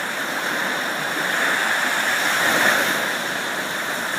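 Ocean waves wash steadily in a continuous broadband roar, with a gentle swell in loudness midway, close and unbroken with no voices.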